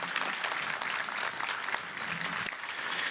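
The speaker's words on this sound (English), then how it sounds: "Let's give them a round of applause." Audience at an 8th grade promotion ceremony applauding the students, continuous dense clapping at steady loudness throughout.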